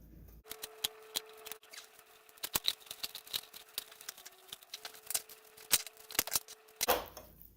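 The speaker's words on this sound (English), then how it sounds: "I am going to cut out the other side here too to get the spine right out" Kitchen shears snipping along the backbone to cut the spine out of a raw turkey before spatchcocking, a run of sharp, irregular crunching cuts and clicks up close, no talking.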